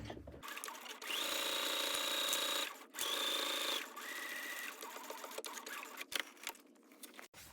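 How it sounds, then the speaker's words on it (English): A sewing machine stitches a zipper pouch from one boxed corner to the other, running in steady continuous bursts with brief pauses for backstitching at the start and finish, close and fairly loud. "sewing all the way from one boxed corner to the other, back stitching at the beginning and at the end"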